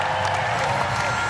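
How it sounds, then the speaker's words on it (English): A tennis crowd at a United Cup quarterfinal applauds Stan Wawrinka, a dense, continuous wash of clapping with a few cheers mixed in, loud and sustained throughout. "the crowd acknowledging Stanley, thanking them."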